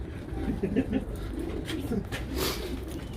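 Pigeons coo softly in low, throaty calls amid background noise and faint talking nearby.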